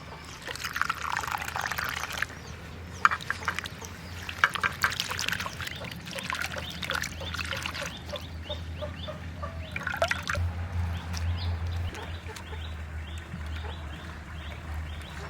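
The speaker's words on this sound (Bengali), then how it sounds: "শাক কয়টা প্রথমে ধুয়ে নেব।" Fresh fenugreek leaves are rinsed in water in a village kitchen, with steady splashing, pouring and dripping, while nearby fowl cluck and chirp throughout.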